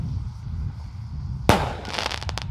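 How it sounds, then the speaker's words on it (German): A single firework rocket goes off at midnight with a sharp bang after steady background noise. Crackling bursts and pops follow as its extra effect spreads. "Let's go, die nächste Rakete"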